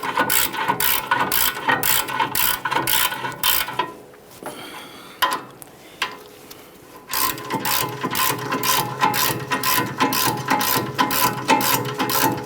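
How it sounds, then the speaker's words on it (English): Rapid ratchet clicking from a wrench snugging brake caliper mounting bolts on a 2015-2020 Ford F-150. Loud, close bursts of pawl clicks run for several seconds, pause briefly with lighter handling noise, then resume steadily. "Start in each one of those mounting bolts. Snug them up."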